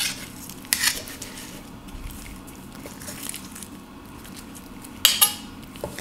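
Utensils clink and scrape faintly as tongs and a knife cut through very hot plant-based food, with a couple of sharper metallic clicks standing out over a quiet kitchen background.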